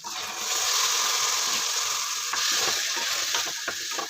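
About 150 grams of soaked chickpeas go into a pan of frying onion and tomato, raising a steady, fairly loud sizzle with scraping stirring sounds close by.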